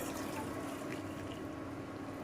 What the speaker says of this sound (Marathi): यातलं अर्ध भांड जे आपण जास्तीचं पाणी टाकलं होतं ते आपण काढून घेतो.